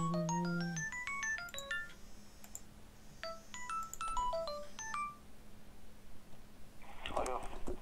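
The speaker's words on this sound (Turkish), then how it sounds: "Oh beyler geliyorum 2 dakikaya telefon çalıyor." A phone ringtone plays as a faint, tinkling melodic sequence of rising and falling electronic tones, repeated twice, with a low steady hum beneath and a brief burst of noise at the end.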